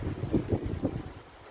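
Wind gusts over open farmland and buffet the microphone in low, uneven rumbling puffs for a moment, with no voices.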